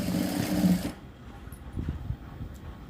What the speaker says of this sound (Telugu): ఈ విధంగా స్ట్రైట్గా కుట్టు అనేది వేసుకోవాలి.